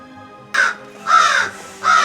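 Crow caws at a nature reservation, three loud harsh calls close by with short pauses between them and no talking.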